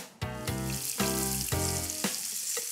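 Floured chicken pieces sauté in a hot pan with sage and prosciutto, a steady loud sizzle with several rhythmic scraping strokes roughly every half second.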